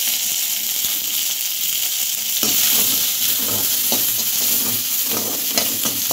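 Onions, tomatoes, cinnamon, fennel and curry leaves sautéing in oil in a pan, a loud continuous sizzle with repeated nearby stirring scrapes growing busier partway through.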